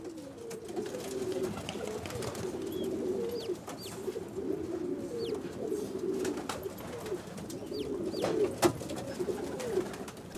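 Pigeons cooing continuously at close range, low rolling calls repeating in waves, with faint higher chirps and a few sharp clicks scattered through a steady ambient background.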